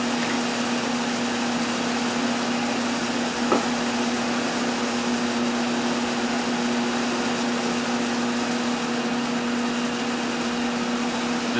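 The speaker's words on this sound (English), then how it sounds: "Just square off the end of this with the mill." A milling machine squares off the end of a workpiece for a vise mill stop, producing a steady, loud, close mechanical drone with a constant motor hum and one brief click.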